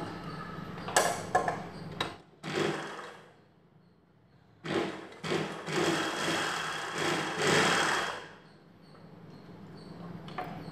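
A sewing machine stitches the front part of a single katori blouse, running in several short bursts and longer runs of rapid mechanical clatter separated by quiet pauses, close and without talk.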